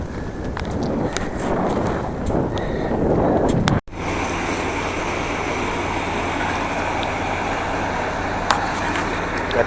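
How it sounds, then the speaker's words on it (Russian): Strong, cold headwind roars steadily against the microphone in Sichuan, China, a constant buffeting rush with low rumble, briefly cut once before continuing. "Еще и ветер встречный, холодный."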